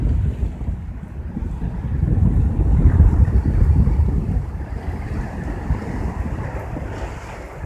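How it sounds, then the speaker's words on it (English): Waves wash and splash against jetty rocks at an ocean inlet with a rushing surge, mixed with wind buffeting the microphone; no voices. "See this water splash up and get everybody all wet."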